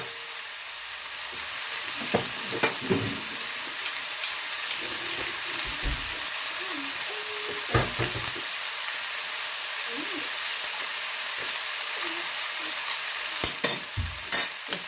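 Chicken stir-fry with pepper sizzles steadily in a hot pan while a utensil stirs it, scraping and clinking intermittently, close and continuous with a little talk.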